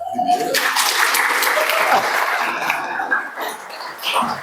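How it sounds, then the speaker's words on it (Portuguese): An audience claps for the first option in a group vote at a motivational talk, a burst of steady applause with some laughter and voices mixed in, fading toward the end. "Palmas pra primeira?"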